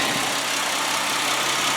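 The 3.4 liter V6 engine of a white 2002 Chevrolet Venture van idles steadily up close, an even rushing hum with no change in pitch or rhythm.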